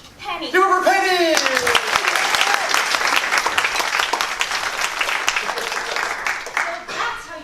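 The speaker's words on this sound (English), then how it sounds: "Let's give a round of applause." Theatre audience at a one-act stage play applauding a volunteer: dense, sustained clapping from a full house fills the room for several seconds, with a few voices at the start and whoops mixed in.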